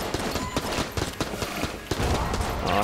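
Rubidine gun firing rapidly in the dungeon-crawler game Enter the Gungeon, a quick series of sharp shots with a busier burst of shooting and game effects toward the end.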